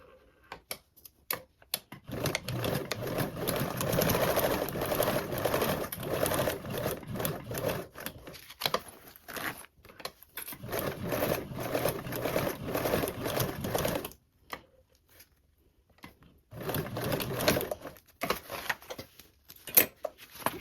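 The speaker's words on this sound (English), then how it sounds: "sewing with a 1/4 seam allowance" A sewing machine stitches a toiletry bag seam with a quarter-inch allowance, running in long steady bursts with short pauses between, close and fairly loud, with no talking.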